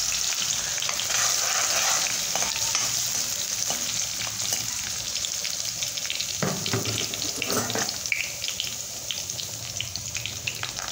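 Garlic and coriander paste frying in hot oil for pav bhaji, a steady loud sizzle throughout with occasional stirring scrapes and brief watery bursts, no talking.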